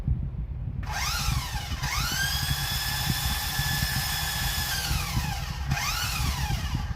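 A brushless motor in an RC car whines up and down under on-off throttle, producing sharp rising and falling electric tones in several bursts over steady background noise.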